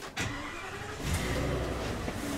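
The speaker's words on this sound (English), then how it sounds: "So I'm just gonna start the engine." A motorhome engine cranks and catches, then settles into a steady idle, close by and fairly quiet.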